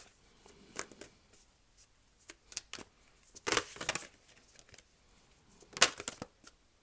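Tarot cards being shuffled, heard as scattered soft riffles and slaps that come in short bursts and sit close and fairly quiet, with no voice.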